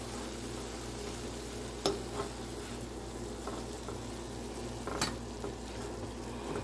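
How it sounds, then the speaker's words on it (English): Stir-fry sizzling steadily in a pan while it is stirred, a constant close crackle with occasional sharper scrapes and clatters of the utensil against the pan. "Okay, let me stir this up"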